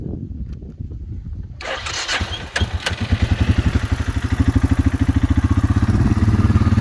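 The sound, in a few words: Suzuki Quadrunner 400 4x4 ATV engine running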